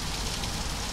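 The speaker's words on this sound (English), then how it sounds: "we are seriously getting some rain" Rain in Microsoft Flight Simulator, heard from an A320 flight: a loud, dense, steady hiss of rainfall with no breaks and no voices.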